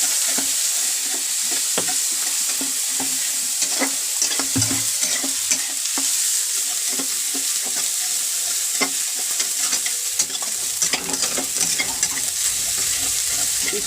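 Egg curry is stirred while it fries in a pan, giving a steady crackling sizzle with repeated scrapes and taps of the spoon throughout. It is fairly loud and close, with no talking.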